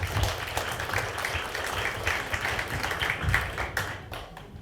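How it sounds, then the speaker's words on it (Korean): Many hands clap together at a book launch held by a senior welfare center, a thick, even applause that carries on for several seconds and then tapers off toward the end, with no talking. "좋은 말씀 해주신 회장님께 다시 한번 큰 박수 부탁드리겠습니다."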